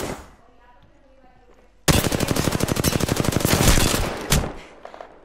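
Automatic gunfire in the battle-royale game Apex Legends, a sudden close, loud rapid burst of shots lasting about two and a half seconds after a quieter stretch, ending with a final crack.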